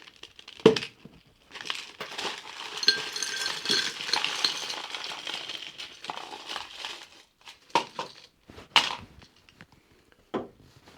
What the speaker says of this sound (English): Now let's add our ice.